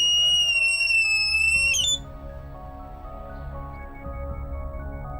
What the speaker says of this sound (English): This is our shriek alarm.